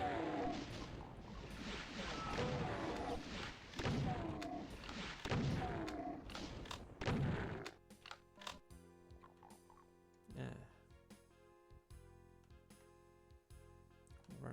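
Several sharp, booming blasts from a rocket launcher in Doom II on PC, fired in quick succession and fading into quieter scattered impacts and game effects.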